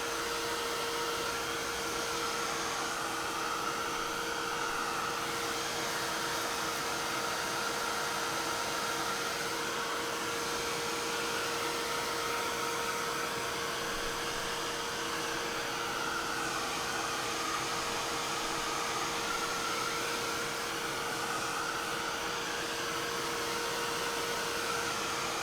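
Heat tool blowing steadily on a painted paper bag to dry it, a continuous loud whooshing hum with a faint tonal whine, unchanging and close for the whole stretch, with no talking.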